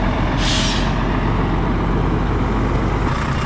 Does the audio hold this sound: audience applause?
no